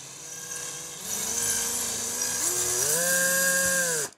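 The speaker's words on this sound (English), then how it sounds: "So now I'll stick the extractor in. I have this on reverse." A drill running in reverse turns a screw extractor into a stripped screw, its motor whine steady and close, then rising in pitch as the extractor grabs, before cutting off abruptly.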